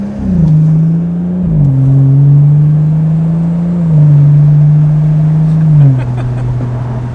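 A BMW B58 engine in an F30/F32-series car, running a muffler-delete exhaust in sport mode, holds a loud, close, deep droning note whose pitch steps and shifts slightly as revs change, without any talking.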